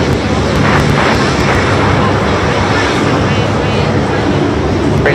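An airplane takes off from the runway at Boeing Field in Seattle, its loud, steady engine roar filling the scene throughout, with radio voices talking over it.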